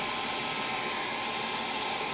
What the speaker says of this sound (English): If you need to speed up the dry time, take your hair dryer.